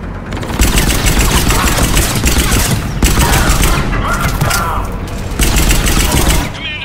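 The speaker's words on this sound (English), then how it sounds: "Commander, we're getting a lot of mortar fire." Mortar fire and explosions in Mass Effect 3 Legendary Edition on Tuchanka, a dense, loud barrage of booms and crackling gunfire rolling on continuously with brief dips between volleys.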